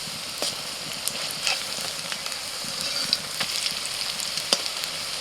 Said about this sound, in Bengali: বড়া ভাজা হয়ে গেছে, এপিট ওপিট উল্টে হালকা লাল করে ভেজে তুলে নিচ্ছি